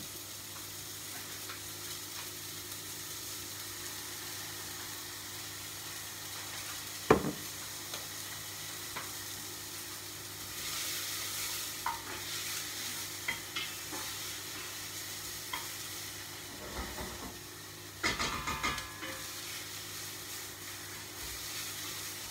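Braised partridge legs with red wine and stock sizzle in a saucepan, a soft continuous fry and hiss with occasional stirring scrapes and clinks, heard fairly quietly and with no talking.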